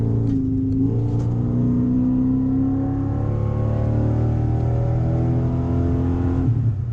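A 1990 Audi V8 Quattro engine revs and drones, its tone rising and settling through several smooth pitch sweeps, loud and close with no talking.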